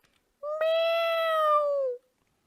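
A single drawn-out cat meow, clear and close, rising slightly and then falling away over about a second and a half against silence, from a cat in the Minecraft video game.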